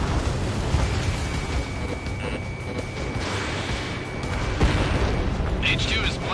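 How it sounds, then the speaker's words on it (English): A missile launches in a PS4 flight combat game, a whooshing burst and boom amid jet engine roar and battle noise, with a voice talking over it. "Missile launched."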